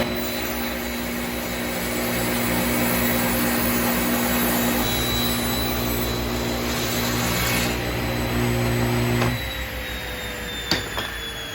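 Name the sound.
table saw cutting glued-up wood blanks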